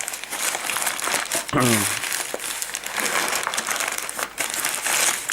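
Dry old paper wrapping crinkles and rustles steadily as it is crumpled, close by, with a brief tonal squeak partway through.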